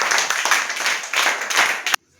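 Children in a school classroom clap in quick rhythmic bursts of hand claps, close and lively, before stopping abruptly.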